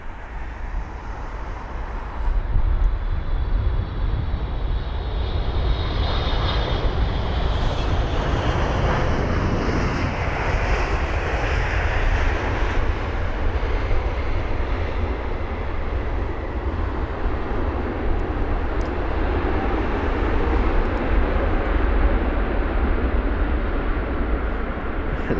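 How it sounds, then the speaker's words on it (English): A 15-year-old Boeing 777 lands on runway 27 right at London Heathrow, a loud sustained roar that swells and then holds steady throughout, with no talking. "the 15-year-old 777 aircraft. Here is the last one on 27 right"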